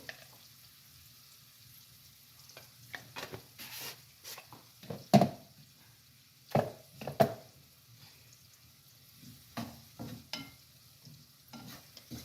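Onions frying in a pan with coriander-cumin powder and turmeric, a quiet sizzle under a series of sharp stirring scrapes and knocks spaced a second or two apart.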